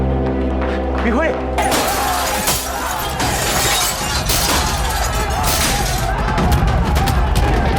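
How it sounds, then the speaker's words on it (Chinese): Police open fire on a rioting crowd, loud volleys of gunfire crackling together with shattering glass and chaotic bangs close by, mixed with shouting voices. "杨警察要开枪杀人了"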